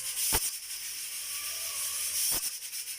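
A small pressure cooker cooking beef gives off a continuous loud steam hiss, with two short sharp bursts near the start and end.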